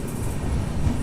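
Narayanadri SF Express pulling out of Venkatagiri station, a steady, close, heavy rolling rumble of the train carried throughout with no voices.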